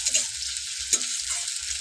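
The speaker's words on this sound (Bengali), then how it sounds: "তো পেঁয়াজটা চলো ভাজা ভাজা হোক" Onions fry in a pan with a soft, steady hiss, broken by a few brief stirring scrapes and clinks nearby, without any voices.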